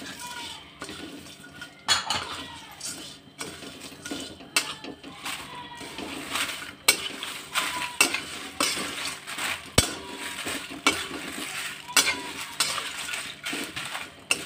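Khandeshi garam masala spices roasting in a little oil in a pan, with repeated metallic scrapes and clinks of a spoon stirring against the vessel, a steady busy rhythm of close stirring sounds and no talk.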